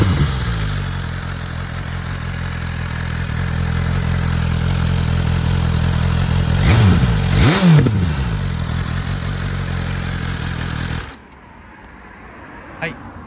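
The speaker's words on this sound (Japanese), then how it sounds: "ではアクセルを回してみます。" A BMW S1000RR motorcycle fitted with an SC-Project exhaust idles loudly, then is revved twice in quick rising and falling swells before the engine is cut, leaving near silence with a faint click.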